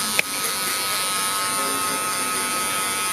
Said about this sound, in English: Wahl cordless magic clips to remove any lines of demarcation